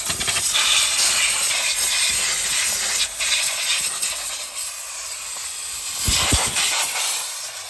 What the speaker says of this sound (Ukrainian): Так, відбиваємо машину.